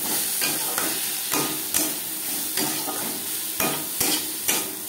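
Spices fry with salt and turmeric in a pan while a utensil stirs them in regular scraping strokes, roughly one per half second, over a continuous close sizzle.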